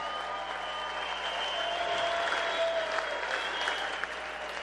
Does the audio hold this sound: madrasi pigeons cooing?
no